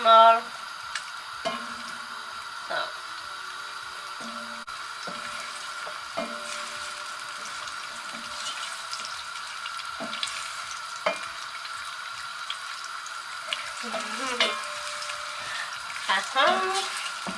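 Onions fry quietly in a pan while cabbage is being cooked at home, making a faint, even sizzle broken by occasional utensil clicks and taps, with brief speech near the end.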